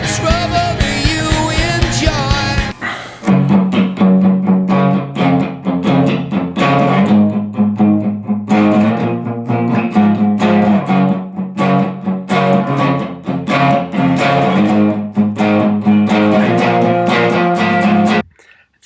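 Electric guitar played through effects and distortion in a rock chorus part with driven power chords, following a brief contrasting intro. The chords are strummed in a steady rhythmic pattern, loud and close, with no talking.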